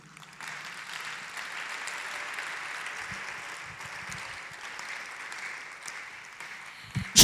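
A church congregation applauds the Lord with a steady wash of clapping that holds at moderate loudness for several seconds and ends in a sudden loud thump.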